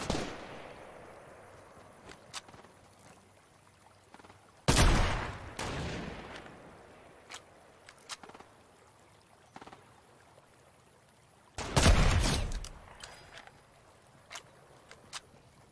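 Fortnite gunfire comes in two loud bursts of rapid shots, each lasting about a second, with scattered single sharp cracks and distant pops between them over a faint ambient background.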